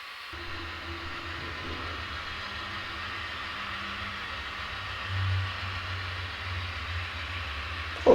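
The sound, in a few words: model train running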